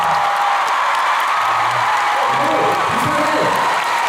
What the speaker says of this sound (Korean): 함성과 뜨거운 박수 보내주시면